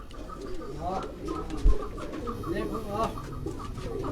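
Tunia pigeons, a Sialkot breed, coo steadily in soft, low repeated phrases that overlap one another, with a faint rustle and one brief thump partway through.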